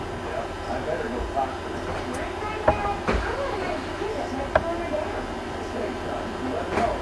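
An NJ Transit train on the Northeast Corridor in Train Simulator 2016 gives off a steady rumbling hum with occasional sharp clicks and clanks, while someone talks over it.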